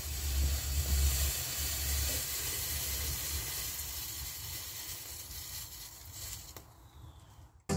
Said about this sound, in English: we mix a piece of sugar and nitrate together and test it